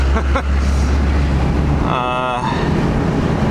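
A 2002 Ford Excursion with a 5.9L 12-valve Cummins diesel rumbles loudly up close, dropping briefly in pitch as it shifts gears mid-pull, then revving back up steadily.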